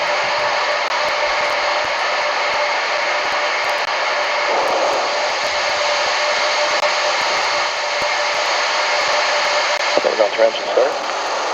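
An Artemis moon rocket engine roars steadily during a hot fire test, a loud continuous broadband rush with crackling near the end, as voices talk over it.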